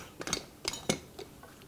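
Metal parts of a stovetop espresso pot clink and scrape as they are screwed together: a few short, sharp taps spaced irregularly, close and fairly quiet, with no talking.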